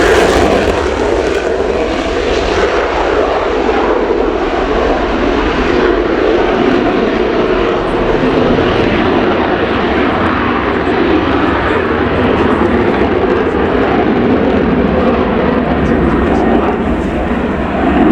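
Saab JAS 39C Gripen fighter jet flying a display at the RIAT air show at Fairford, its engine roaring loud and sustained as it passes, while a commentator talks over it.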